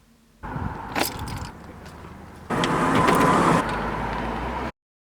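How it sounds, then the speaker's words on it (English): Cars pass on a steep, winding mountain road, one swelling closer and louder before fading, with no talking. "They're cars."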